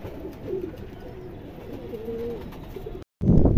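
Indian high-flyer pigeons coo in a close series of soft, low warbling calls, followed by a brief gap and a louder burst of rustling or flapping.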